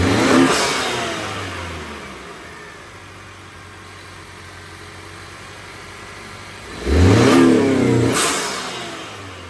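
A 2019 Honda Accord Sport 2.0T with a six-speed manual and an Injen air intake idles steadily between two loud, close revs, one at the start and one near the end, each dropping back to idle.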